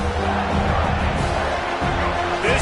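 A large crowd roars at a Florida State football scrimmage, a dense continuous wall of cheering voices, loud and sustained, with a commentator's voice talking faintly over it.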